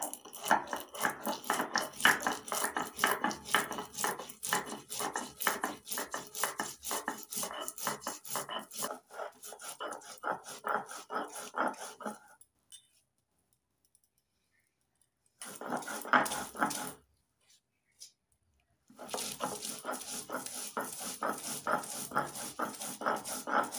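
Mustard seeds and grated coconut with salt and a little water being ground into paste, a continuous rhythmic grinding that runs steadily, stops briefly twice, then resumes.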